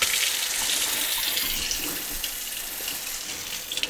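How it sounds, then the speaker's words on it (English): Steady running water streams from a Moen kitchen faucet with a MotionSense sensor, a constant bright hiss and splash with no voices. "turn the MotionSense part of the faucet back on"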